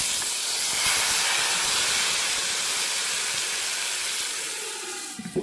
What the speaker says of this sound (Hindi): और अब मैं इसको ये देखें तड़का लगाऊंगा इसको।